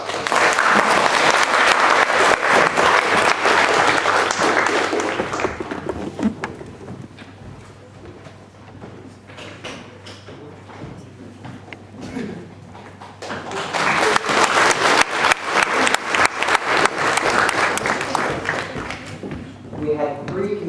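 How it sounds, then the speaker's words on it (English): An audience at a Model United Nations event applauds the U.S. consul general in two loud, dense bursts of clapping separated by a quieter lull with faint murmuring in the room. "So let's give him another round of applause."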